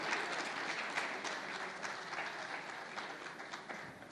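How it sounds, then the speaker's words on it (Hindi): Audience applause on a TV9 conference stage for India's world-champion women's cricketers: a dense, even wash of many hands clapping, moderately distant and sustained without pause. "तो ज़ोरदार तालियां, तालियों की गड़गड़ाहट अभी भी कम मुझे महसूस हो रही है।"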